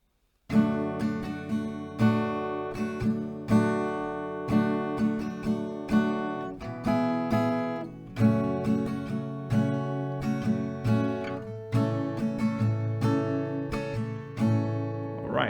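A slow acoustic guitar rendition of the post-chorus from a song, played alone as a steady run of ringing plucked chords and notes at a relaxed tempo.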